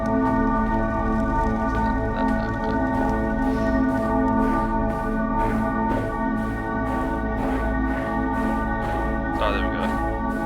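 Bells ringing in the video game AER Memories of Old, a layered, sustained chiming tone that hums steadily for about ten seconds, with faint soft tapping sounds scattered over it.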